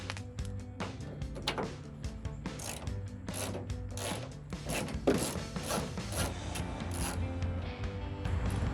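Ratchet removing 8mm screws from a 2009-2014 Ford F-150 tail light, a quiet series of rapid clicking pawl strokes in short bursts, close by.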